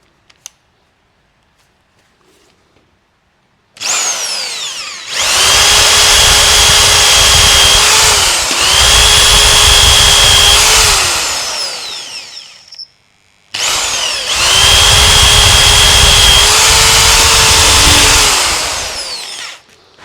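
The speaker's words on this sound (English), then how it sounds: "we've now stepped up to a 12mm drill, and that's chomped through the second one pretty quickly" A 12mm drill bores out century-old rivets in two long, loud, high-pitched bursts with a short pause between them, close up and without talk.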